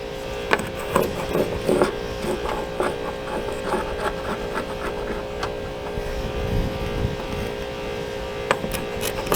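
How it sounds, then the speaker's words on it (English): A wire wheel grinds decals off the metal side of a school bus, giving a loud, close, continuous rough whirring with repeated scraping bursts over a steady mechanical hum, no talk. "So I'm focusing on that with a wire wheel."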